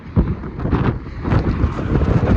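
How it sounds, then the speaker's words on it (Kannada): Steady wind on the Almatti bridge in Karnataka buffets the microphone in a continuous rumbling roar, with no voices heard. "ಸ್ವಲ್ಪ ಗಾಳಿ ಅದ"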